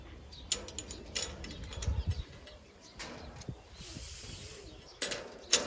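Baazi pigeons coo in low, intermittent bursts, with scattered faint chirps and brief flutter-like rustles around them, fairly quiet with no speech.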